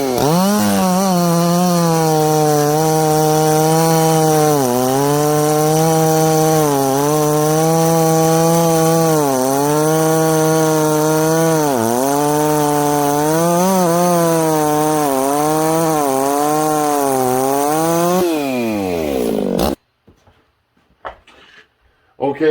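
A ported 66cc chainsaw cuts through wood at high RPM, a loud, sustained whine that dips and recovers under load for about eighteen seconds before stopping abruptly.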